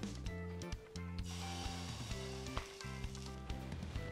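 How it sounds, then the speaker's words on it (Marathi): Buttermilk ghavan batter spread onto a hot, lightly oiled iron tawa, giving a steady crackling sizzle with small scraping touches, running alongside a sustained tonal melody in the background. "आता आपण घावन टाकू।"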